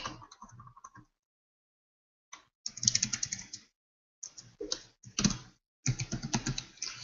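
Quick, light clicks of typing on a computer keyboard come in irregular bursts separated by brief silences, close and quiet.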